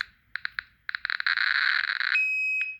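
Electronic alarm beeps from a handheld Geiger counter held over a cesium radiation source, starting as separate chirps and quickening into a rapid, near-continuous loud beeping, then a steady tone and one last beep.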